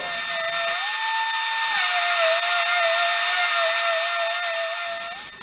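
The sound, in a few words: power sander sanding wood in a corner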